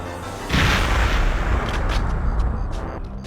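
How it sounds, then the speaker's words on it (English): Explosions in the video game Perfect Dark (XBLA): a loud, deep boom bursts in after half a second and rolls on as a sustained roar, with a few sharp crackles near the end. "I thought the explosions were kind of weird because they lingered on screen so much longer on the N64"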